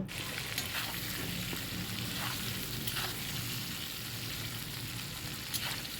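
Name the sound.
potatoes frying with salt and turmeric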